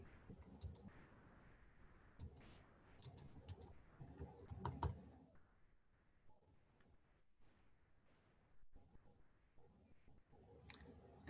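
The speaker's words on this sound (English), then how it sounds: "I will type" Typing on a computer keyboard to enter a sample answer, with faint, quiet clusters of key clicks in irregular bursts across the whole stretch.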